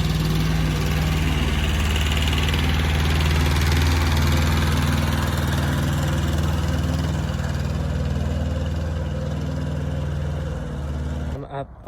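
A small farm tractor's engine runs steadily at close range with a loud, even idle drone, then cuts out near the end.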